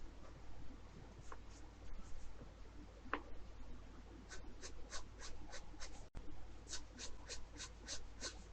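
Pencil sketching on paper for a figure drawing, soft scratchy strokes in short repeated bursts, faint and close, with quiet breathing and no talk.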